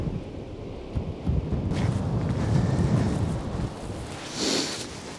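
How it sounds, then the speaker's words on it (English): Strong wind on the Dutch coast buffets the microphone in heavy, rumbling gusts, with a low roar that swells and eases; no voices. "as you might be able to hear and see, it's quite windy here"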